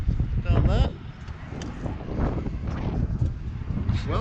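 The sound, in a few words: wind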